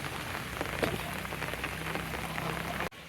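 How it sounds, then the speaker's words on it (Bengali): Heavy monsoon downpour on Eid morning pours onto a flooded road, a dense, steady hiss of rain hitting water and pavement, loud and continuous, cutting off abruptly near the end. "আজকে ঈদুল আজহার এই দিনে সকাল থেকে মুষলধারে বৃষ্টি, সেই বৃষ্টিতে একদম পানি উপচে পড়ে যাচ্ছে রাস্তা দিয়ে।"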